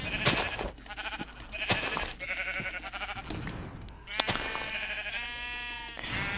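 Sheep in the Minecraft video game bleat repeatedly, a series of close, loud, wavering cries with brief gaps between them and a few clicks in the background.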